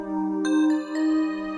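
Bright bell notes from the Expand woodpecker bells preset, processed with Gross Beat and sidechain in a dark trap loop, ringing as sustained tones with two new strikes and a dip and swell in level, without voices.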